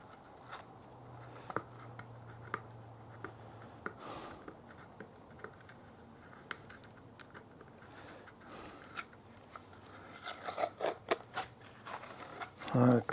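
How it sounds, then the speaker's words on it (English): Masking tape being peeled off a surface, faint scratchy tearing and crinkling that grows denser and louder toward the end, close to the mic, with some quiet background hum. "Take the masking tape off."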